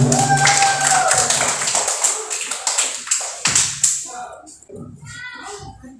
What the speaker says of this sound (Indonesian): tepuk tangan dulu untuk Presiden